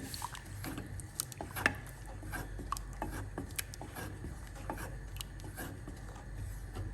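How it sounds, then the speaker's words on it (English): A utensil scrapes and rubs around the inside of a pot of thick sorghum and millet porridge in quiet, irregular strokes, with occasional soft taps. "And then we stir."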